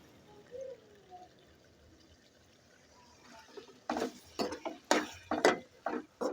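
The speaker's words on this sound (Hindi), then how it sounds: "तो इधर अभी थोड़ा सा पानी डाल देंगे।" Water goes into a pan of eggplant and potato curry with spices, a faint trickle early on followed by a run of loud sizzling, bubbling bursts as it hits the hot pan.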